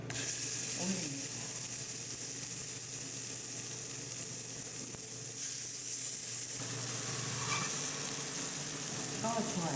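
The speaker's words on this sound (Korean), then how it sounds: "팬을 좀 달구어서 식용유를 조금 뿌립니다" Minced meat patties fry in a preheated pan with a little cooking oil for a Korean dish, giving a continuous close sizzle with occasional light clinks and stirring sounds.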